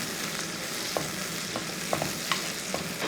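Onions and green chillies sizzle steadily in a pan for fish curry, while a spoon stirs them with scattered light scrapes and clicks close by.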